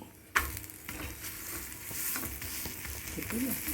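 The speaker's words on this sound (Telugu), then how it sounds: "ఇలా పైన మీద కాల్చుకోవాలి రెండు వైపులా చక్కగా కాల్చుకుంటే బాగుంటుందండి" Chicken paratha roasting on a hot pan, a continuous close frying sizzle with soft stirring and scraping movements and a brief clatter near the start.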